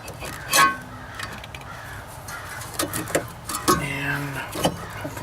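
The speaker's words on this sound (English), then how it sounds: "listen to the crows. They're coming in to kill me." Crows cawing outdoors beside someone repairing a Buick: several sharp caws, some nearby and some farther off, with scattered clinks of tools and a little talk.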